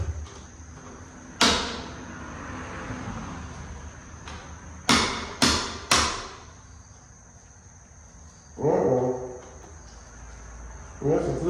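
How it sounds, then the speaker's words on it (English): Sharp metallic taps from a hammer-like tool on a RockShox ZEB mountain bike fork during service, a single hit then a quick cluster of three, close in a quiet workshop with a steady high hum. "Let's get a hammer."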